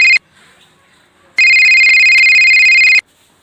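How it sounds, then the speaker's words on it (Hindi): A mobile phone ringtone rings loudly in a village setting, a short burst of the bright electronic tone, a pause, then a longer steady ring lasting over a second and a half, close and clear. "ओ थार भाई को फोन आइयो"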